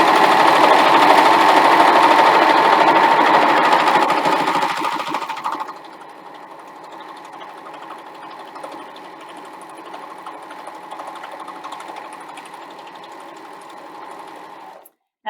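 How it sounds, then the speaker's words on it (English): A Husqvarna Viking Amber Air S 400 sewing machine stitches a cotton fabric test piece with a loud, fast, steady mechanical whir for about five seconds. It then drops to a much quieter, softer running hum until it stops. "I'm just going to pop some cotton fabric through just to do a little test piece to make sure that it is stitching how I want it"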